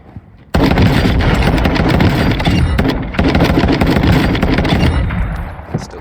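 Semi-automatic gun firing in a shooter game, a sudden burst of loud, close shots in quick succession that runs for several seconds, briefly pauses, then resumes before tapering off.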